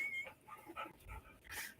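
A dog gives a brief, soft whimper with thin, high yipping whines, close to the microphone and fairly quiet.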